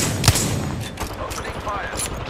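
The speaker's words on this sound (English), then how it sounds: "Opening fire." Gunfire rattles in the video game Apex Legends: a sharp, loud shot up front, then scattered quicker reports and rapid bursts that continue at moderate level.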